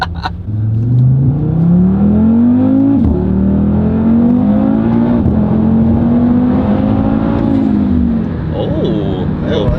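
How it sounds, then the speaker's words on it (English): An Audi RS3 fitted with a 034Motorsport 4-inch carbon intake pulls hard under acceleration, its engine note climbing loudly and steadily through several gear-like steps, with a brief blow-off valve release near the end. "Little blow off valve sound."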